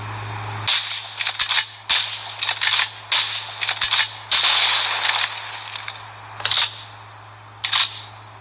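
Gunfire from Call of Duty Mobile cracks out in rapid bursts of sharp shots with short gaps between them, close and loud over a steady low hum.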